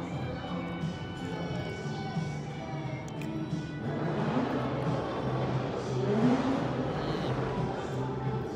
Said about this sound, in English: a black Nissan Sentra. He's flexing his muffler.